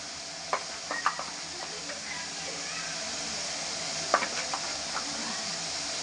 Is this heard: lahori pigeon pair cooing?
no